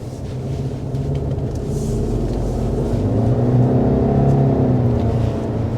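A 2024 Subaru Legacy Sport sedan drives around a corner on a country road, its engine and road noise a steady, close rumble that swells slightly through the turn, with no talking.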